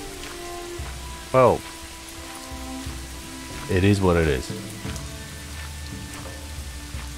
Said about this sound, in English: During the rain, as it is,